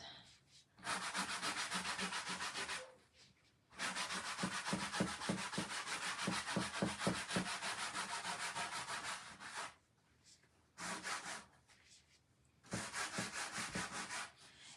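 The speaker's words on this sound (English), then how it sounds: "I am just going to put a light layer of wax over top of what I already chalked" An applicator rubs a light layer of wax over a chalk-painted surface in long continuous strokes, a loud dry brushing that stops and starts in bursts with short pauses between passes.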